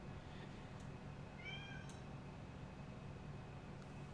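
A cat gives a faint, brief meow in the middle, half buried under a steady low engine drone from a helicopter cockpit.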